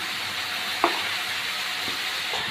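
Whole cumin sizzles in spice paste and oil with a steady bright frying hiss. A few soft stirring knocks break through near the start and toward the end.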